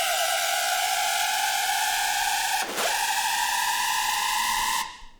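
A big synth riser with a sidechain gate plays as a loud, sustained bright noisy wash with steady tonal bands, a brief dip in the middle, then cuts off abruptly near the end.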